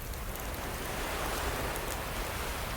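Steady, faint hiss of rain falling on a tropical island beach in the survival game Card Survival, an even, unbroken wash of noise with no other sounds.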